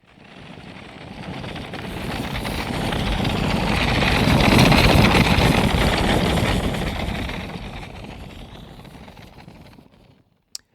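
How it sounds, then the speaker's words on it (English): A designed jet pass built from layered coffee maker, torch and typewriter recordings swells from a roar to a loud peak midway, then fades out, ending with a brief click. "this is a combination of a coffee maker, a torch, and then a typewriter"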